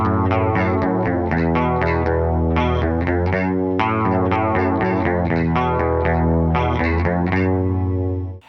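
Electric guitar in standard tuning playing a riff through a distorted, chorus-heavy effects chain, with a loud, dense, continuous sound of rhythmic chugging chords that fades out at the end.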